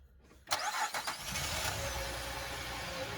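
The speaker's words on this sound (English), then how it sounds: "Time to start the engine." A 2003 Acura MDX engine cranks and catches after a brief silence, then settles into a steady idle.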